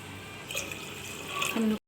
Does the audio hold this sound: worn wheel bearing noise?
no